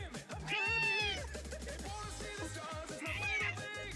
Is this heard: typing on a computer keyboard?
no